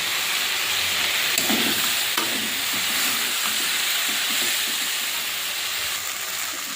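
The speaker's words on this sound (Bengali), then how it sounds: "এবারে পেঁয়াজটা দিয়ে দেবো, দিয়ে ভালো করে ভেজে নিই।" Okra and sliced onion frying in a pan, a steady, dense sizzle with occasional faint stirring scrapes and no talking.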